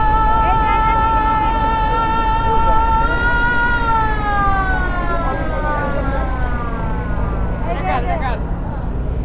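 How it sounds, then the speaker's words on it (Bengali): A ferry horn sounds as a ferry pulls away from the Paturia-Daulatdia ghat: one long, loud, sustained tonal blast with strong harmonics that slides down in pitch and fades near the end, over steady crowd and engine noise. "মাত্র ফেরি একটা এখান থেকে ছাড়ছে আর এটা লোড হচ্ছে।"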